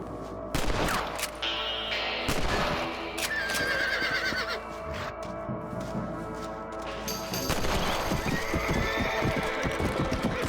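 Horses in the Western video game Red Dead Redemption whinny loudly while hooves clip-clop, with a burst of gunfire and clattering action sounds around them.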